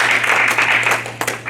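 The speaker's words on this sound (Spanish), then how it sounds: "Un aplauso." Brief burst of congregational applause during a church sermon, a short dense patter of clapping with a few sharper claps toward the end.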